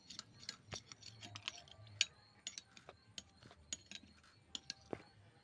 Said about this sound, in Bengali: এবারে আমি এই চামচটা দিয়ে একটু ভালো করে মিশিয়ে নেব